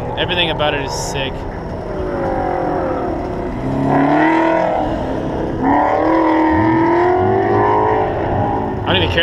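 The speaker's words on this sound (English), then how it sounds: "I'm still videoing that Mustang. Thing sounds epic, dude." A Ford Mustang engine at a 2014 autocross event, a loud, sustained, rising and falling roar under near-constant chatter from onlookers.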